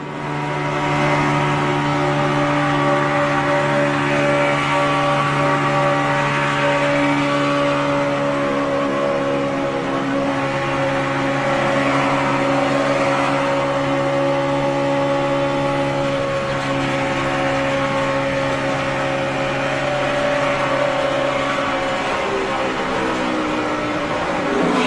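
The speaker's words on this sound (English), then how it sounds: "let's give a listen to David Reagan's engine as he goes down the" NASCAR stock car engine at the 2011 Aaron's 499, a loud sustained droning roar with steady pitch as the car runs down the backstretch, holding strong for the whole stretch with no talk.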